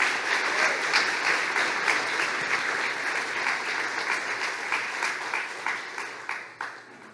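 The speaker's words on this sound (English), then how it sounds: "How about we start by giving a round of applause to the jazz band for their amazing work tonight." Sustained audience applause for a jazz band at a high school awards ceremony, dense clapping from a sizable crowd that holds steady and then thins out toward the end.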